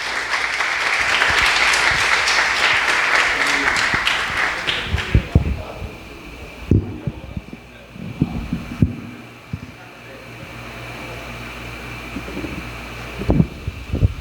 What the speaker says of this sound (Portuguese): vamos recebê-lo com palmas